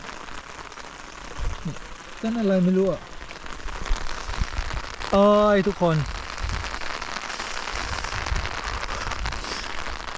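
Rain falls on a camera on a morning outdoors in Japan, a dense, close crackling patter throughout, with a person speaking briefly over it.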